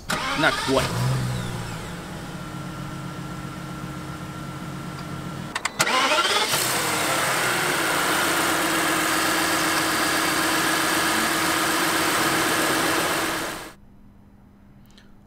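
A 2016 Rolls-Royce Phantom Limelight Edition with a naturally aspirated 6.75-liter V12 cranks over, catches, then settles into a smooth steady idle, restarting midway and running for several seconds before cutting off; a voice speaks briefly.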